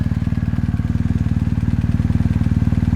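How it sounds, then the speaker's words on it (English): A BMW R1250GS motorcycle engine idles close by. It gives a loud, steady, low pulsing thrum with an even rhythm and no voices over it. "So this is the bike running, side lights on."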